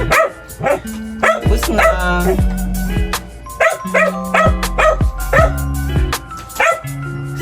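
A large rescued Aspin dog barks repeatedly in a steady run of loud, close barks, with a brief spoken phrase.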